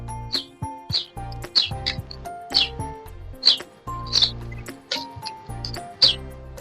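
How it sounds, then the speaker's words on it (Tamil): Sparrows chirp repeatedly at close range in a terrace garden, with short bright calls every half second or so over a steady low hum. "அந்த குருவிங்க பக்கத்துலதான் தான் உட்காந்து கத்துது"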